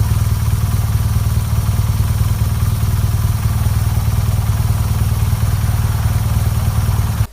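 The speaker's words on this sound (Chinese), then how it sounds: "给大家听一下这一代发动机声浪。" BMW R1200GS with a liquid- and air-cooled 1170cc horizontally opposed twin-cylinder four-stroke boxer engine, running steadily at a loud, even idle with a deep low throb and constant clatter throughout, cutting off abruptly at the end.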